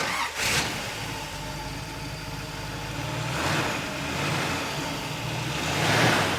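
A 1962 Chevrolet Corvette with a 327 cubic-inch 340 hp engine and new dual exhaust cranks briefly, catches and settles into a loud, close idle with a few swelling revs.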